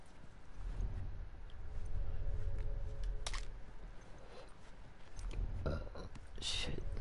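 Burping in The Last of Us, a low guttural belch rumbling through the first half, with faint clicks and game ambience around it at modest volume.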